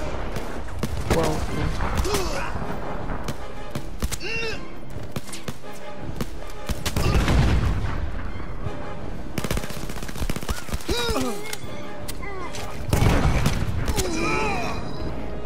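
Gunfire in the VR shooter Blood and Truth, with bursts of shots and thuds running through the whole stretch while a player's voice talks over the action.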